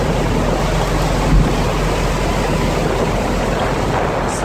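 Rough, choppy sea off Istanbul churning steadily, a continuous broadband wash of waves with wind buffeting the microphone, loud and close with no talk.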